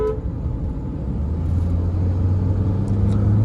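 A 2014 BMW 520D diesel sedan driving in the city, with a steady low engine drone and road rumble from inside the cabin, building slightly as the engine is pressed and joined near the end by faint distant horn-like tones.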